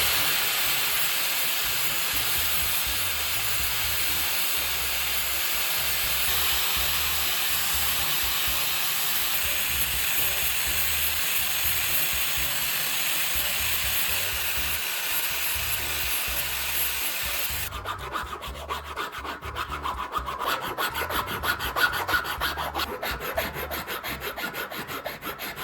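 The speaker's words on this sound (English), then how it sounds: "I grind it down at an angle." The end of a PPR plastic pipe is ground down at an angle, producing a steady close abrasive rasping hiss that turns rougher and more scratchy with uneven strokes in the final stretch.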